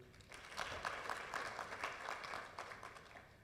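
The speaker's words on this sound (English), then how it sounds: "Can we please clap for him?" Faint applause from the audience at a keynote welcoming event for the Tanzanian Minister of Education, Science and Technology: scattered, steady clapping at a distance, with no clear voices over it.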